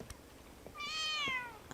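A cat in the video game Book of Travels gives a single clear, rising-then-falling meow over quiet ambient background, with faint soft ticks around it.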